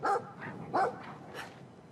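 A dog in the video game Brothers: A Tale of Two Sons gives two sharp barks followed by softer yips, fairly close and alone without talk.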